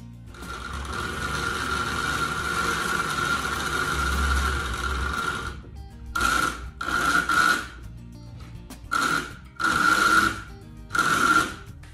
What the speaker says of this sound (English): The motor in it is meant to spin the disc, clean the track.